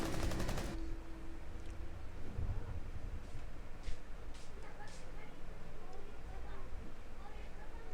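A rapid burst of automatic gunfire opens a round of the video game Rainbow Six Siege, followed by scattered quieter shots and game sounds under a commentator talking.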